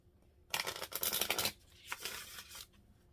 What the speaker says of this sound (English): So I'm going to give the cards a good shuffle.